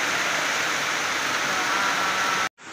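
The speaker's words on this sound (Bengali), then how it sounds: "এবার থামো বৃষ্টি, অনেক বৃষ্টি হয়েছে, এবার থামো" Heavy rain falling outside a window: a dense, steady, even hiss filling the whole stretch, then cutting off abruptly near the end, with no talking.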